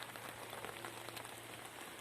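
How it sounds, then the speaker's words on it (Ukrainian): Rain falling in Kryvyi Rih, Ukraine, in early May: a steady, even patter of light rain with dense scattered drops, faint and continuous, with no voices. "Дощ, дощ, друзі, дощ."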